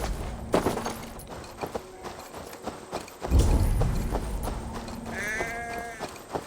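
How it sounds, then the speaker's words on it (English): In Assassin's Creed Valhalla, a sheep gives a short, wavering bleat near the end. It rises over the steady clip-clop of horse hooves and low background game noise. "That sounds like a sheep"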